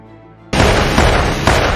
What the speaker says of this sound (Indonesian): langsung melepaskan beberapa tembakan ke arahnya